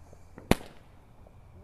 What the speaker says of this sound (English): This firework is apparently called the shark, so let's see if it's worthy of that name.